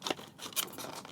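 Scissors snipping open packaging on a Greenlight collectible die-cast Scout half cab pickup, a few short crisp cuts close by, quiet and alone.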